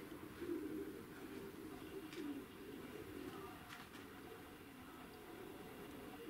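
Pigeons coo softly in a loft during a training and culling session of a pigeon flock, low burbling calls in the first half over a dense, noisy background with occasional clatter.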